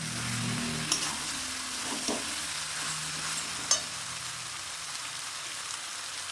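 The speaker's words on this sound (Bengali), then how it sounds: "ভেজে রাখা এঁচোড় দিয়ে দিলাম, দিয়ে নেড়ে দিলাম।" Pre-fried raw jackfruit and potatoes sizzle steadily in hot oil in a pan for a jackfruit and prawn curry, with a few sharp clicks of a spatula stirring against the pan over the continuous frying hiss.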